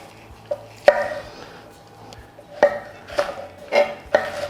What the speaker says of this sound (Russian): Нарезаем такими не мелкими фрагментами, чтобы у нас они поместились в ложку.